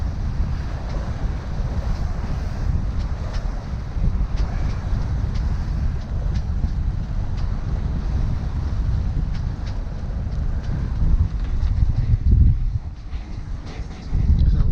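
Strong wind roars steadily over a sailing boat underway, rising in gusts near the end, with a low rumble of water and hull beneath and no voices.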